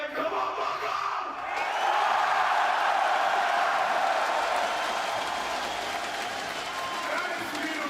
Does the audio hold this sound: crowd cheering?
yes